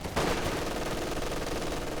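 A German MG42 machine gun rattles in a Company of Heroes 2 match, opening with a sharp burst and continuing as a fast, loud, sustained stream of gunfire amid battle noise.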